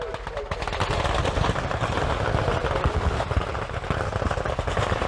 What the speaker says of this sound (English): Certainly an awful lot of automatic weapons fire.